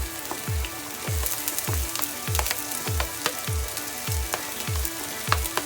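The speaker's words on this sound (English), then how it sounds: "I'm gonna go and sear it a little bit" Scallion and garlic searing in a hot pan for jerk shrimp pasta, with a steady sizzle and a regular series of low thumps, about two each second, as the pan is worked. No one speaks.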